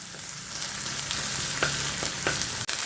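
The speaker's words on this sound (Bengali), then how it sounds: "পেঁয়াজটাকে অল্প একটু ভাজা করে নেবো" Onions sizzle loudly and steadily in a hot pan, with scattered sharp crackles and pops through the hiss.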